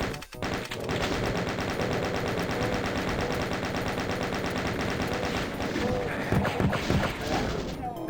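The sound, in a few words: chaingunner firing in video game Doom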